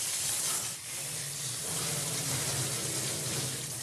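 Cold tap water running steadily to rinse and desalt a cured Corsican prisuttu ham, a continuous close hiss and splash with no pauses and no talk.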